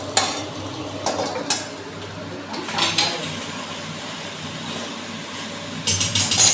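A pot of sambar being stirred steadily so it doesn't catch on the bottom, with soft scraping and gentle sizzling, a few sharper clinks of the spoon against the pot, close by with faint background hum.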